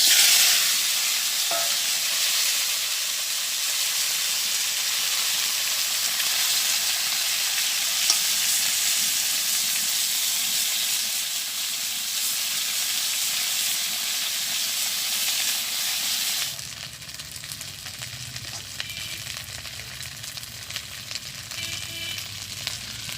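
Leftover fried fish refrying in hot oil in a wok, giving a steady, hissing sizzle that runs for most of the stretch, then drops to a quieter crackle near the end.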